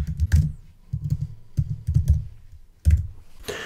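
Fingers type on a computer keyboard in bursts of close, crisp key clicks with short pauses between, no talking.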